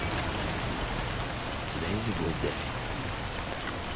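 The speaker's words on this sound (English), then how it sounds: "No end to this rain." Steady rain falling in the Death Stranding game, a continuous hiss of drops heard under a brief spoken line.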